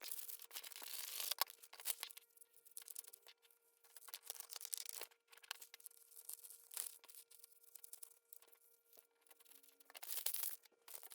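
Scissors cut through a paper sewing pattern for a wool vest, with quiet repeated crisp snips and rustling crinkles of the paper in uneven bursts.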